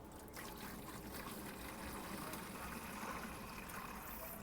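Collected rainwater pours from a dipping container into a watering vessel for garden plants, a quiet, steady trickle and splash close by with no talking.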